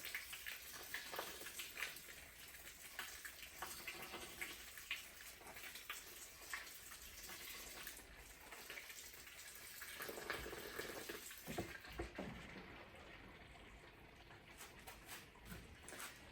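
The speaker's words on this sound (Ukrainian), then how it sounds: "Це в нас доливається гаряча вода." Hot water pours steadily into a malt mash for bourbon whiskey made with Angel koji yeast, a continuous splashing stream heard close and alone for the whole stretch.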